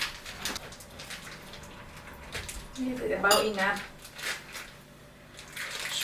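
Hot water poured onto tamarind paste for a Thai nam jim jaew dipping sauce, a short splashing pour of a couple of seconds with rising pitch, heard under people chatting in a kitchen.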